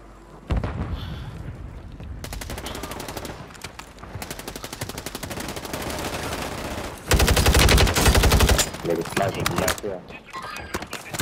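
Automatic and single gunfire from a Call of Duty match, rattling in dense bursts almost throughout with a heavier, louder volley near the end, while players talk over the shooting.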